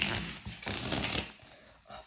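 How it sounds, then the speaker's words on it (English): A deck of playing cards riffled in quick bursts, the rustling flutters close and bright, in two main runs with a quieter patter of cards afterward. "Oh, these cards shuffle so good."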